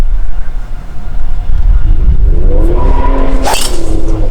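A car passes loudly on a road beside a golf course at Jacksonville Beach during a golfer's backswing, its steady engine and tire rumble rising and sweeping through the moment with no talk.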